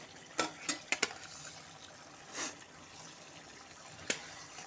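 A spoon stirs chicken makhani in a pan after pre-fried capsicum and tomato go in, giving a few soft scraping strokes and light clinks with a faint sizzle underneath, close and fairly quiet.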